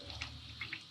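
Brief trickle of water running from a tap at a trail water stop, soft and close, with a few small splashing bursts over one second.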